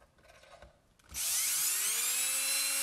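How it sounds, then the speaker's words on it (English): A power drill bores bolt holes through a plastic panel on brewing and distilling boiler equipment. After a quiet second the motor kicks in loud and close, then holds a steady, rising whine to the end. "So I'll just use a bit which is a slightly larger than the bolts I have, and I'll drill those through the plastic."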